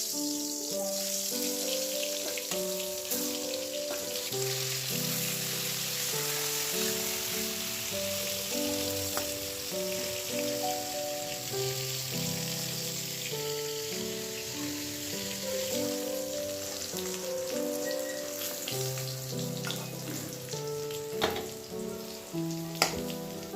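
Sliced pointed gourd (potol) fries in a pan as a steady sizzle under loud background music, with a few sharper clinks toward the end.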